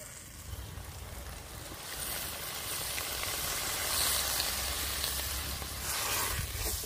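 Water spinach sizzles and hisses in a pan as water is poured in, a steady frying crackle cooked over a village clay stove, growing slightly louder and steaming throughout.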